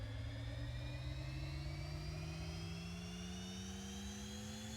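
A jet engine from a plane in the SimplePlanes 2 flight game runs at a steady, even roar, its pitch rising slowly as it spools up, with no talk.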